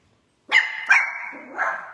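A household dog barks a few times nearby, two sharp barks followed by a softer trailing yelp, loud against an otherwise quiet room.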